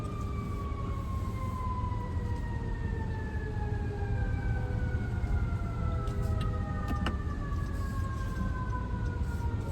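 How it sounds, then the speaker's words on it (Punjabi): A fire engine siren wails steadily in slow falling sweeps, fairly far off over a low rumbling Manhattan street background at night. "ਫਾਇਰ ਬ੍ਰਿਗੇਡ ਆ ਗਈ ਪਿੱਛੇ"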